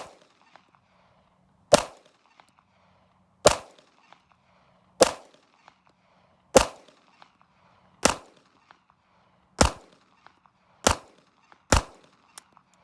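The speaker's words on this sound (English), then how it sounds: "I'm gonna shoot for top left of the target" Beretta 30X pistol fired at a target seven yards away on a shooting range: eight sharp, loud shots spaced about a second and a half apart, each with a short ringing decay, and no talking.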